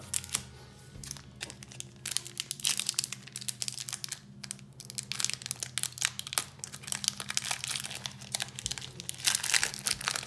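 Foil wrappers of Harry Potter Wizards trading card booster packs crinkle and tear as they are opened, with crisp, close, busy rustling throughout and a low hum underneath.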